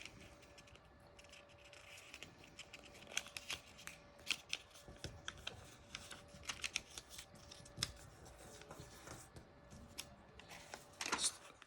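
Sheet of paper folded in half one way, reopened and creased the other direction, giving crisp crinkles and sharp creasing taps that come in small bursts, close and fairly quiet, with no talking.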